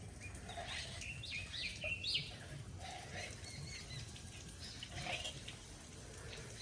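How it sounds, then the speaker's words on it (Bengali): Birds call and chirp faintly in the morning outdoors, scattered brief tweets over a steady low background hum, with no talking. "কত সুন্দর পাখিদের আওয়াজ সকালবেলা শুনতে কতটাই ভালো লাগে"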